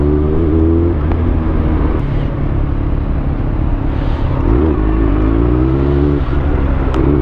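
Busy city road traffic, loud and close, with a continuous engine rumble and vehicles swelling past as they go by, heard from inside a moving vehicle with no voices.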